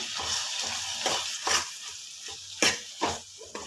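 Ginger paste frying with moong dal lentils in a pan for a tomato dal, a steady low sizzle broken by several sharp stirring scrapes and clinks, close and clear with no talking.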